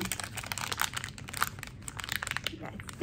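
A plastic wrapper on a pack of raspberry shortbread cookies crinkles in irregular, crackly bursts at close range, fairly quiet, with soft speech in the background.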